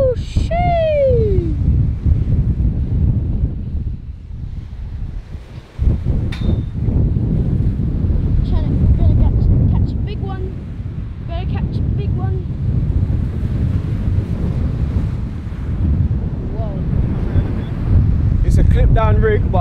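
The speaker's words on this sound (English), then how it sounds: "And it's quite windy" Strong wind buffets the microphone at a lakeside fishing spot at a leisure park, a loud continuous roar with gusts, while someone talks over it at times.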